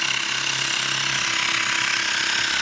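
A Xiaomi electric mini air compressor pump runs on a battery with a steady, rattling mechanical buzz and a fast pulsing hum that continues unchanged throughout.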